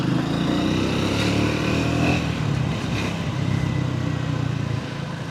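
A Triumph Speed 400 motorcycle of the 2026 model year on a test ride, its engine droning steadily and loudly with a constant hum and wind noise, no talking over it.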